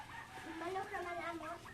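A chicken clucks in a backyard, a few close, wavering calls heard with faint background noise.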